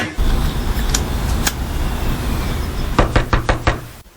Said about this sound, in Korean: 대답 없는 집 앞에서 한참 문을 두드립니다